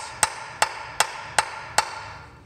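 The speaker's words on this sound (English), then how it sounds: "I put a nut on one of these studs right here, and very carefully with a mallet just start hitting that upwards" A mallet strikes a nut threaded onto a cylinder head stud of a junk Jaguar E-Type engine: five sharp, evenly spaced metallic knocks with short ringing tails, close and clear, with no talking.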